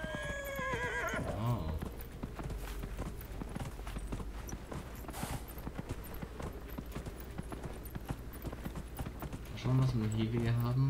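Horse hooves clip-clop in a steady gallop with whinnying and neighing, from a mount ridden in the fantasy video game Dragon Age Inquisition, heard over continuous game ambience and music.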